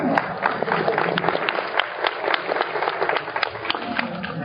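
A crowd of devotees at a BAPS religious gathering breaks into sustained applause, dense overlapping hand claps filling the room at close range, with a few voices mixed in.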